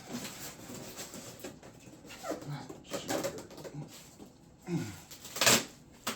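A dog whimpers and whines in short, uneven bursts, with a few louder high-pitched yelps near the end, fairly close by.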